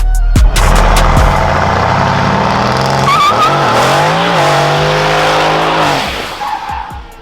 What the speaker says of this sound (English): we're gonna do a quick 0 to 60 in the C63S